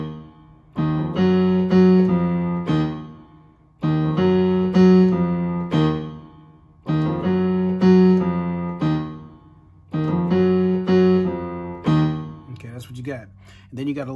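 A piano plays a repeating phrase from a song as four similar chordal passages of rapid notes, each about three seconds long, loud and close, followed by a brief voice at the end.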